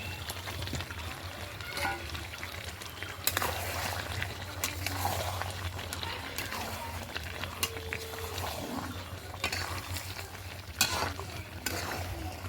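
Mutton curry stirred and fried in a pan with oil, a steady close sizzle broken by scraping stirs and occasional louder clanks of the spoon, with no talking.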